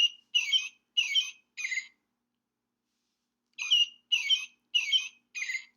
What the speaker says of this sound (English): maybe we recognize robins that have those orange, red breasts, and they have a song that sounds like this